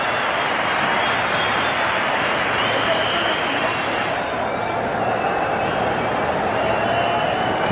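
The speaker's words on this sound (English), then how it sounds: "the crowd is roaring" A stadium crowd at a cricket match between Australia and another side produces a steady, dense roar that stays loud and constant throughout, with a commentator talking over it.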